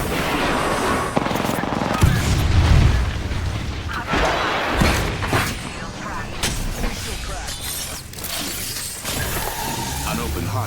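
Grenade blast in the battle royale shooter Apex Legends, a heavy boom breaking out amid steady gunfire, shield cracks and in-game effects, with a player talking over the dense, continuous combat noise.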